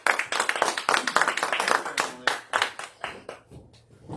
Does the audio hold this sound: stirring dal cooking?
no